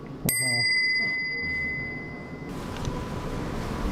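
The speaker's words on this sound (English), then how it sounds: "here's another bell too, which is used to call people." An old servant call bell in a historic house gives one sharp ring. The bright metallic tone hangs and fades over about two seconds before stopping, over a faint room background.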